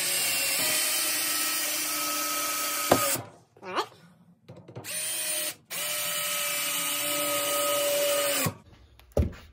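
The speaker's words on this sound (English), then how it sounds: "Now I'm going to take this piece of 2x4. I'm going to put it right on top of that 2x4. And I'm going to screw it down." A power driver screws a 2x4 down onto another 2x4 in several long, steady whirring bursts, separated by short pauses, with a higher whine as the screw seats near the end.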